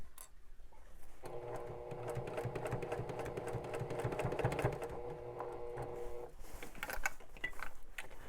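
Sewing machine fitted with a quarter-inch foot stitching fabric, a quiet, rapid, steady mechanical whir that runs for about five seconds between softer handling noises and faint rustles, heard close with no talking.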